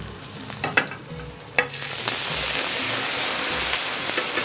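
Finely chopped onion fries in a pan for chicken curry. A few clattering knocks come first, then a loud, steady sizzle takes over and continues to the end without any talk.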